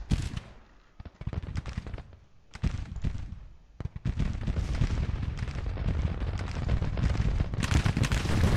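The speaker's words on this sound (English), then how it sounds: "now we're really hammering them in here with cannon fire." Cannon and rifle fire in the 1863 Civil War strategy game Grand Tactician: scattered sharp shots and booms at first, then a loud, unbroken crackle of massed musketry and artillery over the second half.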